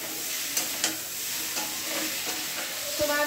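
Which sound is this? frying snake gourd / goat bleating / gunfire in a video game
frying snake gourd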